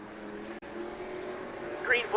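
Race cars drone past on an oval track during a test race as the green flag returns, a steady engine hum rising to a louder whine near the end, heard beneath an announcer's commentary.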